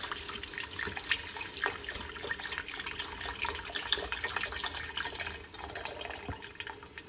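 Vegetable broth being poured into a pot of sweet potato and onion curry, a soft continuous liquid splashing and trickle that holds steady at low volume with no speech.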